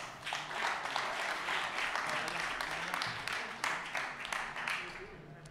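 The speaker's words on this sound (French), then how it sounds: "je vous demande d'applaudir Maxime Girard" Crowd at ESTAC Troyes football club's title celebration applauds steadily and broadly throughout, a sustained wash of many hands with faint voices mixed in.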